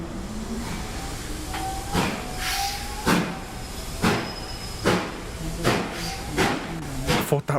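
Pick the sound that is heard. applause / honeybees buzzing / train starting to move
train starting to move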